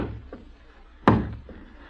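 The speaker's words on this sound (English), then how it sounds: "Someone at the door." A radio-drama door knock sound effect: one sharp, close rap on wood with fainter taps before and after it, in a quiet room.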